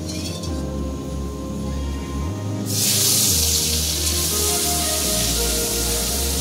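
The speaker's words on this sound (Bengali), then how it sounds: "এই যে হলুদ নুন মাখিয়ে নিয়েছি, এবার আমি তেলের মধ্যে ছাড়ব।" Turmeric- and salt-coated fish dropped into hot mustard oil bursts into a loud, steady hiss of sizzling and spitting that stays strong and close for several seconds, with no talking.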